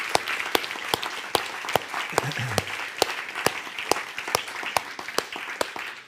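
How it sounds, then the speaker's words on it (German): Applause at a Sunday harvest thanksgiving church service, a congregation clapping steadily with sharp, evenly spaced hand claps standing out over a dense wash of clapping throughout. "gerade heute könnten wir mal einen Applaus machen für all die verborgenen Einsätze"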